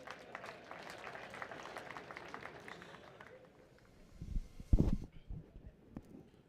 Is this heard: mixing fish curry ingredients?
no